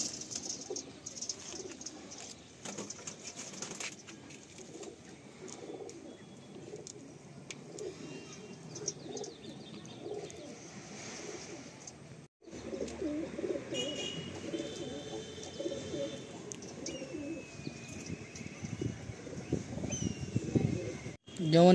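Madrasi pigeons, a male and female pair, cooing in soft repeated low calls close by, with people talking over them throughout.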